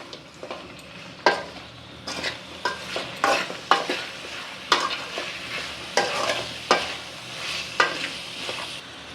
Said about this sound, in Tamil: தக்காளி கட் பண்ணி வச்சுருக்கோம் போட்டுக்கலாம் சவுச்சவு காயும் போட்டுக்கலாம் இது எல்லாமே வந்துட்டு நல்லா வதங்கட்டும்